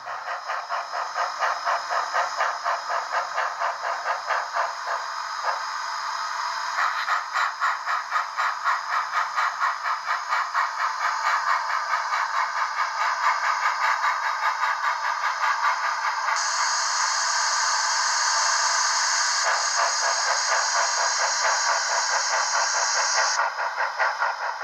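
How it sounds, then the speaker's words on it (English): HO-scale model steam locomotive running on a SoundTraxx Tsunami sound decoder tuned heavy on treble with little bass, a steady bright, hissy rattling chuff that carries on unbroken with no talking. "The locomotive on the foreground track has had its decoder programmed, so it's got a lot more highs, and I took out most of the bass."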